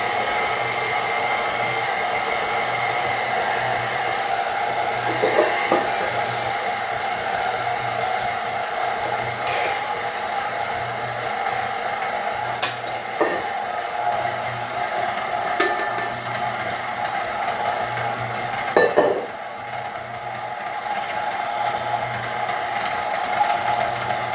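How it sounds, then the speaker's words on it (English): Electric stand mixer beating sugar cookie dough, a steady motor whir running continuously with occasional knocks and thumps as the thickening dough strains the machine. "The mixer will start having a hard time once we get towards the end, but it can absolutely handle it."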